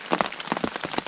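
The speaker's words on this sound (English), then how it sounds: "It's good to see the rain up in this region of the Boundary Waters because it is very dry." Rain falling in the Boundary Waters wilderness, a steady patter of drops striking a surface with irregular louder spatters, close and continuous with no voices.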